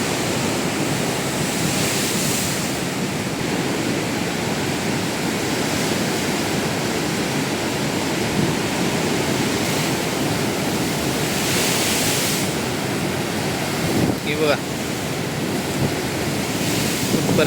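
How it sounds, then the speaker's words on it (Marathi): Strong sea waves crash continuously onto a beach at Ganpatipule, a loud, dense roar of surf with wind buffeting the microphone and swelling breakers rising every few seconds. "आता जोरात लाटा सुरू झाल्यात"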